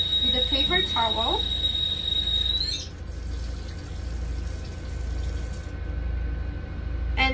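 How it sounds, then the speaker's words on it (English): A faucet runs with a steady hiss of water, then is shut off with a paper towel, leaving a quieter room tone. Brief voices and soft handling noises are heard. "Now, I'm gonna turn off the faucet with a paper towel."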